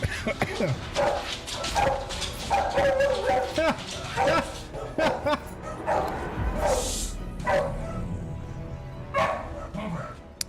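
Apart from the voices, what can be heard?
dog barking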